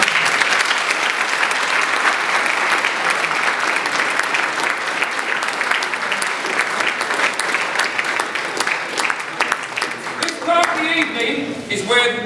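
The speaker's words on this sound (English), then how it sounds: "It's a big round of applause." Loud, sustained applause fills the room at an annual presentation evening at Woolwich Barracks for 56 Squadron. The dense clapping from a large audience runs steadily and thins near the end as a voice comes in.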